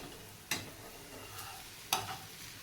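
A gram flour pancake fries in a pan with a soft, steady sizzle, broken by two sharp scraping clicks of a spatula against the pan.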